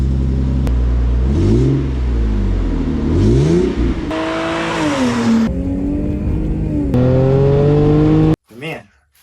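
A Lexus GS300 fitted with a Revel Medallion muffler revs repeatedly, its exhaust note rising and falling in loud swells, with a final short burst after a brief cut.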